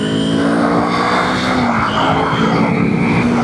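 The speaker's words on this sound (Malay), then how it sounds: "bunyi 2 silinder dia sedap weh." A Kawasaki Ninja 250 ABS two-cylinder sport-touring motorcycle engine runs with a steady, loud drone and a slight rise in pitch midway, close by and continuous with no talking.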